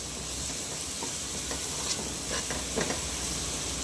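Spice powders stirred and fried in a cooking pan for a potato and soya chunks gravy, a steady close sizzle with soft scraping strokes of the spoon throughout, no voices.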